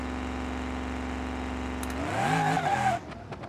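A muscle car in BeamNG.drive, the Crusher MoonHawk, idles with a steady low engine drone, then launches off a trans brake into a loud revving surge that rises for about a second before cutting off abruptly.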